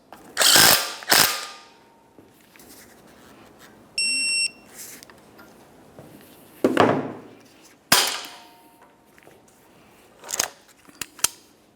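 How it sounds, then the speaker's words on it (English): Tightening a strut mounting nut on a 2006-2011 Honda Civic front strut brings clicky ratcheting bursts and metallic clatter, with a short electronic beep partway through, close and uneven. "Tighten your mounting nut and torque it to 33 foot-pounds"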